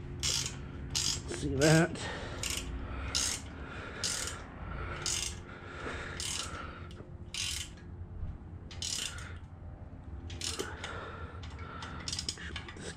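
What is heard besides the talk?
boat trailer winch ratcheting as it is cranked by hand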